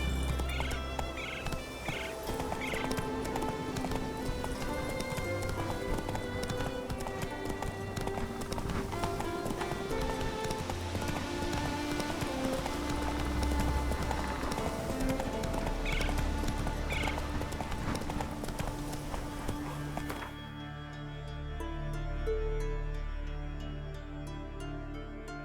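Steady clip-clop of a horse's hooves galloping in The Witcher 3, loud and continuous over game music and ambience, with occasional whinnies; the hoofbeats cut out near the end, leaving softer background.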